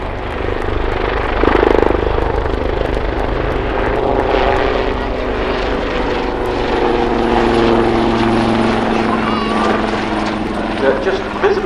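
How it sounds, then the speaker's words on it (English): Royal Navy Wildcat HMA.2 helicopters fly a display at an airshow, their rotors and engines producing a loud, continuous thrumming roar that stays close and steady throughout, with a commentator talking over it. "The Royal Navy Helicopter Display Team, the 2024 Black Cats."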